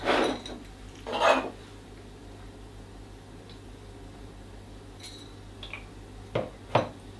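Spoon clinks and scrapes against a bowl while vegan spinach turmeric bread batter, with vegan eggs and olive oil, is stirred together; a few brief clattering bursts near and distinct, separated by quiet gaps.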